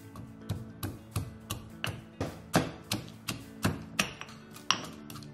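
Eight small shallots are crushed for Kerala-style rasam, about a dozen sharp pounding knocks at a fairly even pace, close and distinct in a quiet kitchen.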